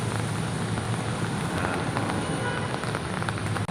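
Steady rain falls across the open grounds of Luneta Park in Manila, a dense, even hiss of drops on wet surfaces, continuous and fairly loud, with no speech heard.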